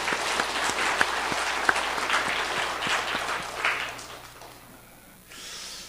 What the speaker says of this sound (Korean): 박수도 치십시오